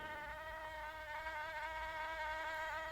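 A single mosquito buzzes close by in a steady, high-pitched whine that holds at an even level throughout, with nothing else heard.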